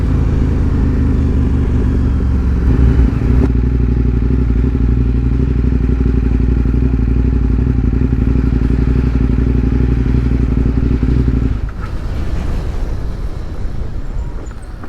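A KTM big twin motorcycle engine drones steadily and loudly at cruising speed for about twelve seconds, its low rumble and thrumming continuous, then falls to a quieter idle or coast near the end; no voices.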